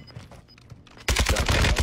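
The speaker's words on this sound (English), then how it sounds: "how you like those bullets?" Video game gunfire erupts in a loud, dense burst of rapid shots after a quieter stretch of faint clicks and rustles, the volleys sustained and close.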